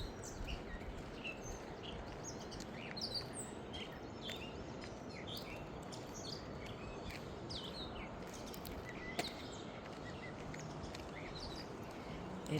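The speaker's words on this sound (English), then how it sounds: "The birds are chirping so nice." Birds chirp at sunrise beside a river in Maine, with scattered faint, distant calls over a steady low wash of outdoor background noise.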